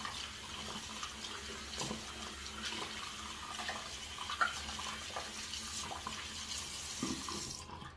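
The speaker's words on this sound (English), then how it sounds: "gotta rinse it out" Tap water runs steadily into a tub being rinsed out after shaving-soap use, a continuous close splashing stream with small gurgles and sloshes throughout.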